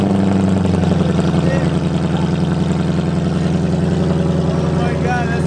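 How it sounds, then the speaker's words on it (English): A 2015-17 Ford Mustang GT with its resonator deleted fires up from cold and settles into a loud, steady, rumbling idle that holds close and continuous throughout. "Cold start."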